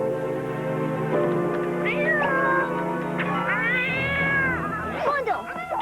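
A cartoon cat meows repeatedly, with drawn-out rising and falling yowls that turn into a caterwaul, loud and close over a steady background hum.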